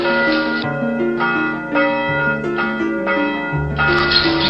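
A church bell in San Diego tolls repeatedly from the tower, loud, ringing strikes at a steady pace, each one leaving a sustained, overlapping hum.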